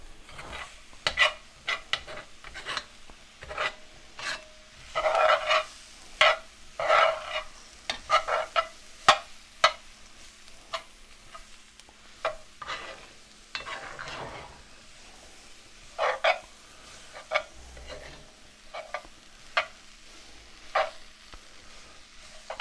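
A spoon scrapes and clinks in a pot of salmon gumbo on a power burner set near medium-low, stirring in bursts of strokes with short pauses and a faint sizzle underneath.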